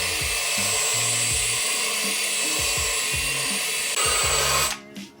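Steady high whine of a grinder working a rusty 43-year-old BMW 2002 subframe, loud and continuous with fluctuating motor pitch, cutting off near the end.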